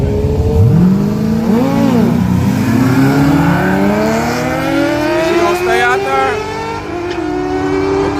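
Drag race cars, including a Ford Mustang, launching and accelerating down a hood-track strip, engines rising in pitch and roaring loudly with a brief tire squeal while a voice comments over the noise.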